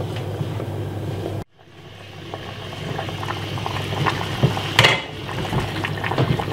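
A pot of Jamaican coconut gungo rice and peas boiling, a steady bubbling hiss that cuts out briefly and then builds back up with occasional louder splutters.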